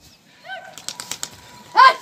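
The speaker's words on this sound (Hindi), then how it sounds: "तो उड़ चुका है भाई अपने कबूतर" A pigeon takes off and flies, its wings giving a few quick flapping claps, followed by a short loud coo-like call close by, with no talk.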